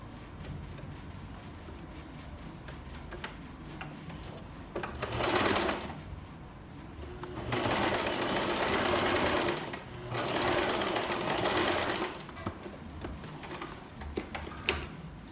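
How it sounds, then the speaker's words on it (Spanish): A sewing machine stitches a blouse seam 3 cm in, running in several loud bursts separated by pauses, with low background noise between them. "le voy a coser a 3 centímetros"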